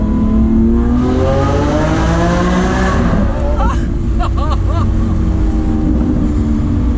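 Loud, close engine drone of a Lamborghini Aventador S Roadster echoing inside a tunnel, holding steady with a brief rising rev and a few crackling pops midway.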